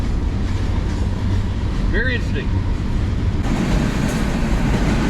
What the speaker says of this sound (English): That train is going fast now. Very fast.